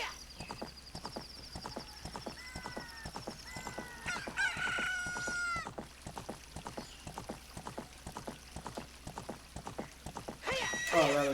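A rooster crows in Ocarina of Time alongside rhythmic clip-clop of Epona's hooves and a horse whinny, with steady game music beneath and short chirpy dialogue-box tones.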